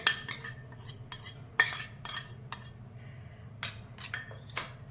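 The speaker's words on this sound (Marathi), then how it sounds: "मस्त हलवून घ्यायचं" A spoon stirs yogurt into a cooled dish in a bowl, giving a series of sharp metallic clinks and scrapes spaced irregularly over a quiet background.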